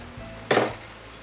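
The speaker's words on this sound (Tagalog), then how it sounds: "Ilagay ang binating itlog" Beaten egg poured into a hot pan and stirred: one brief, sharp clatter of utensil against the pan, with quiet kitchen background before and after.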